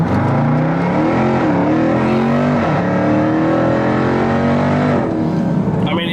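A Jeep Trackhawk with a mid-muffler delete exhaust launches hard from a standstill, its engine roaring loud and close as the pitch climbs through rising gears with brief dips at each shift.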